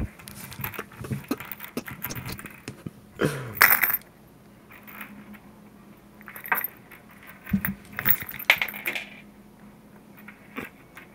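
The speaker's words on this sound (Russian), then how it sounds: "Вот, смотрите, какие у меня монетки. Давайте послушаем, как они звучат." Coins from an opened piggy bank clink and rattle up close, with scattered small metallic taps, a couple of louder jingling handfuls and quiet pauses between.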